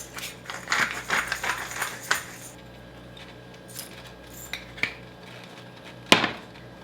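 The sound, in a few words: mixing vegetables with salt and pepper in pan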